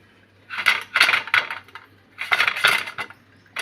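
Metal idli plates being oiled with a brush and handled, giving bursts of bright clinking and clattering in two clusters with a short pause between, close and fairly loud.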